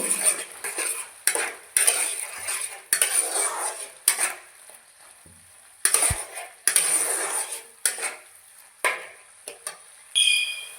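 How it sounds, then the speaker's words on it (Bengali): Indian olives for a tomato, olive and orange chutney frying in a pan, with loud bursts of sizzling and repeated clanking spatula stirs against the metal, close up and fairly busy, with no talking. "এখন আমি জলপাই দিয়ে দিচ্ছি জলপাই। আবারও ভালো করে একটু ভেজে নেব।"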